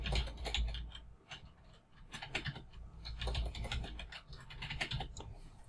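Password typed on a computer keyboard, a quiet run of irregular key clicks in short bursts, close and alone without talk.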